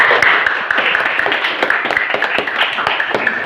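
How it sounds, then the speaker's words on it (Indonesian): A classroom of students clapping their hands together in a sustained burst of applause, dense overlapping claps filling the room at steady loudness, with a few voices mixed in. "Ya, tepuk tangan semuanya."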